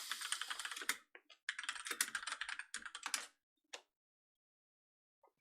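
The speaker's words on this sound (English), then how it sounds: "Clickety clackety, we're both typing." Two people type on computer keyboards, dense rapid clattering bursts of keystrokes with short pauses, then a few isolated taps before falling silent.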